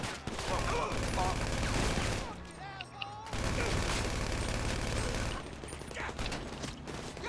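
Gunfire in Grand Theft Auto V, with dense rapid bursts of shots and mechanical clatter filling most of the clip, pausing briefly for a quieter stretch before the shooting resumes.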